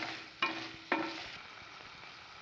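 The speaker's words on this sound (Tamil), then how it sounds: "பீன்ஸ், கட் பண்ணி வச்சுருக்க உருளைக்கிழங்கு, இதை இப்போ நல்லா மிக்ஸ் பண்ணிக்கலாம்" Beans and potatoes for a Saravana Bhavan style vegetable biryani are stirred in a pan. Two distinct scrapes sound against a soft, steady sizzle, close and quiet, with no talk.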